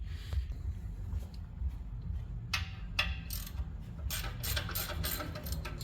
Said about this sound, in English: go ahead and pull those off the heat shield